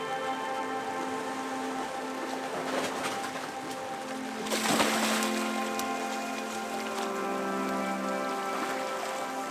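Steady rain falls during a backpacking trip on Ulleungdo island, a continuous close hiss of drops pattering on surfaces, with a brief heavier burst midway and no voices.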